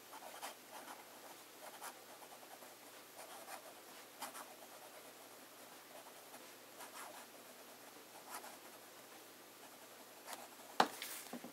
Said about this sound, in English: Start with a bit of fine writing.